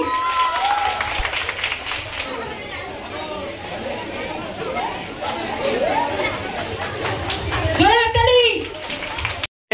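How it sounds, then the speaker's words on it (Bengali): A crowd at a school Teacher's Day celebration claps in a scattered burst of applause during a prize giving, with children's voices and chatter mixed throughout and a rise in cheering toward the end. "সবাই একটা জোরে হাততালি।"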